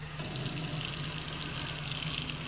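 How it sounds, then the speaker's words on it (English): Water drains steadily from a water heater expansion tank, a constant close hiss and splatter with no break throughout. "I do have to drain the water out of that expansion tank to add the air."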